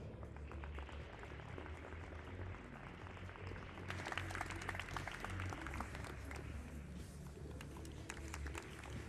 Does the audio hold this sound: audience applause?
yes